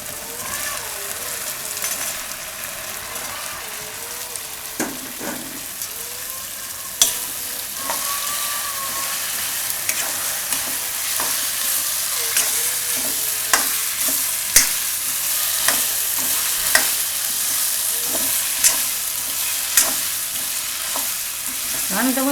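Chopped bottle gourd frying with cumin in hot oil in a kadai, a continuous close, hissing sizzle with regular scraping strokes of a spoon stirring the pieces, no voices.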